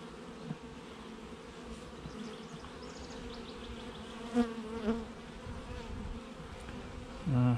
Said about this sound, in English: the bees are really getting rammy.